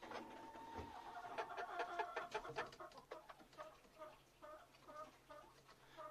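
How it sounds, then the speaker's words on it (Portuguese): A young, large rooster clucks and calls in a henhouse during a harsh winter, a series of fairly close, rhythmic vocal bursts with a faint background hum. "Esse aqui é um galo"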